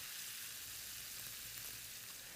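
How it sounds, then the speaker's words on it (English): Ground beef and chopped onion fry in bacon drippings in a skillet, a steady, even sizzle with faint crackling, close and alone. "in the same skillet, we brown some ground beef along with a chopped onion"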